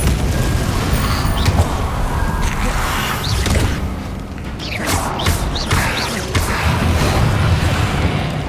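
Confringo and Depulso spell blasts in the Hogwarts Legacy video game boom and whoosh loudly in quick succession over a dense, continuous rumble of combat effects.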